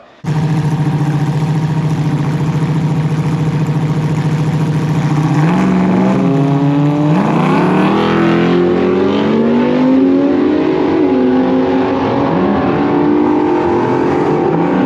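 A turbocharged Barra-engined ute makes a drag racing pass, its engine idling and then revving hard with rising, shifting pitch. The run is loud and close and continues unbroken to the end.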